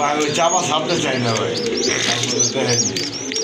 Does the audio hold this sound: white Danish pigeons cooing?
yes